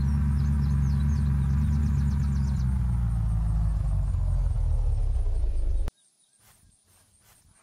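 A car engine in the video game Unturned drones loud and steady as the car drives, its low rumble easing slightly, then cuts off abruptly near the end, leaving near silence with a few faint clicks.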